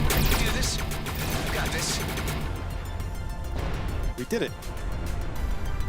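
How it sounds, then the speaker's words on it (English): Explosions and weapon fire in the space combat video game Everspace 2, a dense, loud barrage of bursts and crashes running throughout, with a voice talking briefly over the action. "Look at the explosions."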